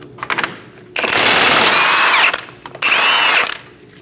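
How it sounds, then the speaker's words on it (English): A power tool with a 32 mm socket removes the front axle nut on a 2008–2015 Scion xB, firing two loud, close whining bursts of about a second and a half and under a second, separated by a short quiet gap with faint clicks. "Using a 32mm socket, we're going to remove our axle nut."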